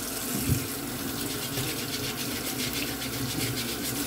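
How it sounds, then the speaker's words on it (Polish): Dirty vegetables scrubbed with a plain brush under running water from a tap, a steady close bristly rasping over a continuous water stream, with one soft knock near the start. "przechodzimy najpierw do mycia tych warzyw. Ja się posługuję taką zwykłą szczotką"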